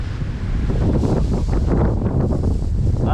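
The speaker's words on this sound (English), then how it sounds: "Super windy though." Strong wind buffets the microphone outdoors at a water-side raccoon trapline, a loud, continuous roar with rumbling gusts that never lets up.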